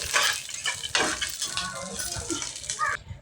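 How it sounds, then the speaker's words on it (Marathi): Ginger and garlic fry in a pan for a spicy potato curry, a close, busy sizzle mixed with scraping and rattling of a spoon against the pan, stopping abruptly at the end. "आता अद्रक लसूण सुद्धा व्यवस्थित भाजून घेऊयात"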